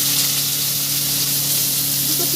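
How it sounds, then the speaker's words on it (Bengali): Chopped onion hitting hot oil with a little whole cumin for a Bengali chicken curry, giving a steady, close broadband sizzle and hiss that holds evenly throughout with no talk. "এবারে দিয়ে দেবো কোচানো পেঁয়াজটা"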